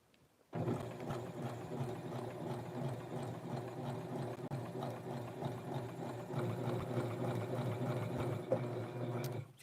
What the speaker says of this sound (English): now let's sew this other front seam